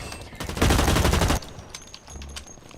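Gunfire in the shooter game Blacklight Retribution comes as one loud rapid burst lasting under a second, then fades to quieter game ambience with a few distant shots.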